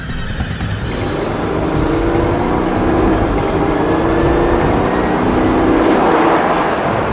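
A Bugatti Veyron Grand Sport with carbon ceramic brakes drives hard on a canyon road, its engine a loud, steady roar that swells slightly and holds close for the whole stretch, with no voices.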